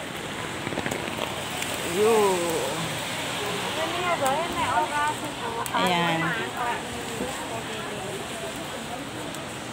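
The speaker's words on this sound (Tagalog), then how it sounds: "Ayan, grabing ulan. Grabing ulan." Heavy rain pours down on an outdoor picnic, a dense, steady hiss filling the whole clip while someone talks excitedly over it.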